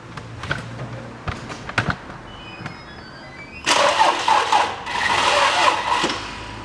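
A 2004 Toyota Harrier with a faulty starter makes a few hesitant clicks and short stutters, then a sluggish, labored cranking that continues for several seconds, loud and close.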